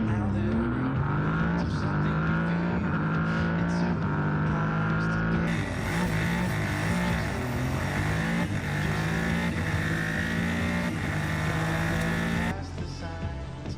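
Super Formula Lights race cars at Suzuka, a loud continuous high-revving engine roar with shifting pitch as cars race past, commentary faintly underneath.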